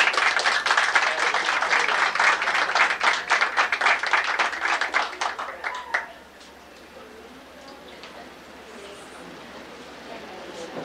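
An audience at a 1994 radio panel in Puerto Rico applauds with dense, loud clapping for about six seconds, then it cuts off and the room falls to a quiet murmur.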